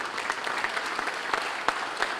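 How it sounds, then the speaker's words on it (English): An audience at a public safety awards ceremony claps steadily for a couple of seconds. The applause is moderately loud and dense, with individual sharp claps standing out. "How about a round of applause for them, please?"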